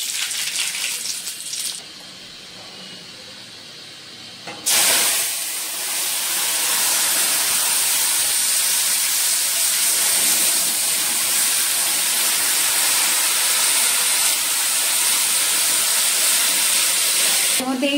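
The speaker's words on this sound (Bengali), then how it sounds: "এই ডালটা ফোড়ন দেওয়ার সময় আমার খুব ভয় করে, এত ছ্যাট ছ্যাট করে আওয়াজ হয়" Dal hitting hot oil for tempering gives a loud, steady sizzle with a gushing hiss that starts abruptly partway through and keeps up to the end, after a quieter kitchen stretch.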